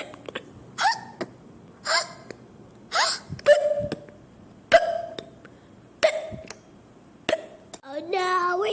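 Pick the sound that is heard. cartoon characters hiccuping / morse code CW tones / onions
cartoon characters hiccuping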